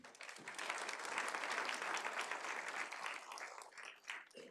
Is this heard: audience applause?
yes